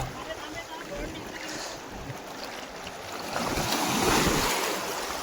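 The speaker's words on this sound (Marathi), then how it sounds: "समोर लाटा आहेत" Sea waves rolling onto the shore at night during eel fishing on the Konkan coast, a continuous rushing surf with wind noise on the microphone, swelling louder toward the end.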